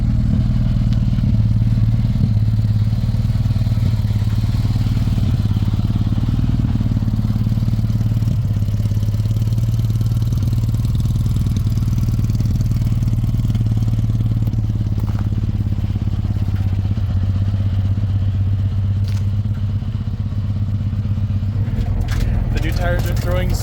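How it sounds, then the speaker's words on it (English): A kei truck swapped to a motorcycle engine drives on new wheels and tires over gravel, a steady low engine drone running throughout with scattered clatter of stones flung from the tires near the end. "Tires are throwing so many rocks."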